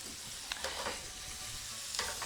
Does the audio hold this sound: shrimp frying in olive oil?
yes